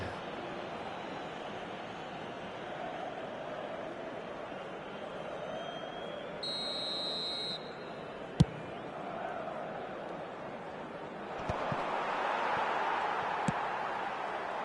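A referee's whistle in an eFootball video game match sounds once as a short, clear tone over a constant low roar of stadium crowd noise.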